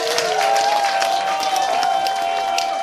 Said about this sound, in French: Applaudissez encore une fois de plus pour ça.